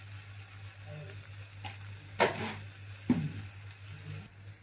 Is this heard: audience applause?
no